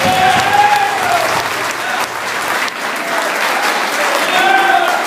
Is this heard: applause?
yes